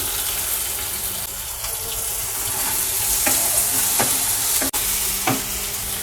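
Tomato and chopped onion fry in hot oil with garlic, giving a steady close sizzle throughout, broken by a few sharp scrapes and clicks of stirring.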